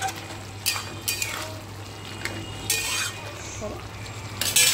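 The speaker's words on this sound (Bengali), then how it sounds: "দেখো গরম মশলাটা ছড়িয়ে দিলাম, ভালো করে আর একটু নাড়াচাড়া করে নেব।" Green bean and potato curry seasoned with garam masala being stirred in a pan, with soft scraping strokes and a few louder clatters over a low background hum, close and moderately quiet.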